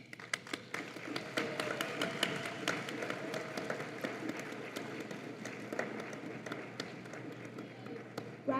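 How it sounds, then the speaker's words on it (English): A graduation commencement crowd at a pharmacy school gives a sustained round of applause, dense overlapping claps continuing evenly at moderate distance for several seconds. "give appreciation, a round of applause for your family and friends"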